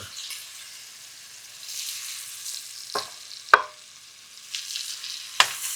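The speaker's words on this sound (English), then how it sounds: "we're going to let this cook just until the onions are a little translucent and have gotten a little soft" Diced medium onion cooking with two tablespoons of butter in a pot for potato soup, giving a steady soft sizzle with a few sharp clicks and taps from stirring.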